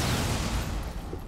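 Rapid gunfire bursts in the video game Rainbow Six Siege, a dense rattle of shots packed into a short, loud moment with no talk.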